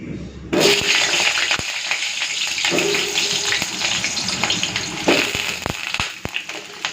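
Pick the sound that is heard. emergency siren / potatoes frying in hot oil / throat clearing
potatoes frying in hot oil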